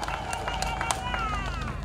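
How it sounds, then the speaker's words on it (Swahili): Crowd applauding for Paul Makonda at an outdoor government event in Dar es Salaam, with steady clapping and cheering from a large audience under a murmur of voices. "Naomba tumpigie makofi mengi sana sana Mheshimiwa Paul Makonda."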